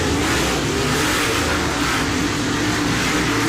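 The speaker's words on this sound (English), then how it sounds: "Here is some footage from the Pit Report podcast showing Shane Clanton going around Devin Moran." Dirt late model race cars roar around a track in a continuous, loud engine blare with a broad, steady wash of noise and no distinct passes or pauses, heard without speech.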